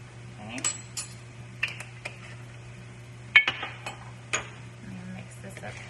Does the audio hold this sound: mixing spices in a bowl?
yes